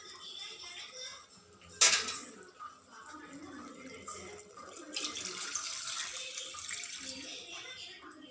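Water pours and splashes steadily into a pot of soaked rice being cooked for chicken biryani in a pressure cooker, following a sharp metallic clink, moderately close and without speech.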